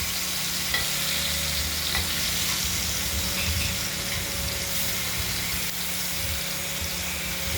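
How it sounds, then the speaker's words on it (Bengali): Loud, continuous sizzle of salted, turmeric-coated rohu fish frying in hot oil in a wok, a dense hiss with a faint low hum beneath and a few soft clicks, no talking. "মাছগুলোকে কড়াইতে তেল গরম করে ভাজা করে নেবো"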